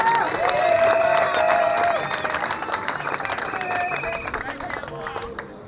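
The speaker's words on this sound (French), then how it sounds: "Ça mérite les applaudissements pour la hiérarchie." An audience at a formal ceremony claps in a dense patter of applause mixed with voices, fading gradually over several seconds.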